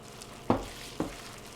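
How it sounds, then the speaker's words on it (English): Batter being gently folded together with fresh wild blueberries: two brief, soft spoon strokes about half a second apart, close and quiet, with no talking. "Just mix this together with as little mixing as possible"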